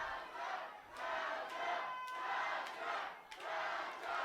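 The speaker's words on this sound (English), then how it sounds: "The whole crowd is going for Delta." Colorado Springs Wrestling crowd chants in a steady rhythm of loud, regular bursts, heard from within the room and quieter overall, rallying behind one wrestler.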